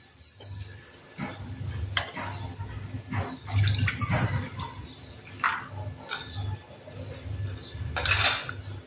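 Water splashes and trickles into a metal pan while an ilish fish curry is made in a home kitchen, with intermittent clinks of a utensil against the pan and no speech.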